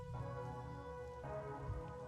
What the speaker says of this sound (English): The rain isn't falling on me, but rather,